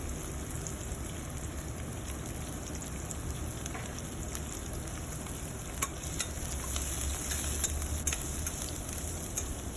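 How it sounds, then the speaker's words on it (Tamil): Onion, dried red chillies, green chillies and curry leaves sauté in a pan, giving a steady dense sizzle with occasional soft stirring clicks throughout, close and fairly even in level, with no talking. "ரெண்டு காஞ்ச மிளகா ரெண்டு பச்சை மிளகா கொஞ்சம் கருவேப்பிலை இதெல்லாம் சேர்த்து நல்லா வதக்கி விட்டுறணும்"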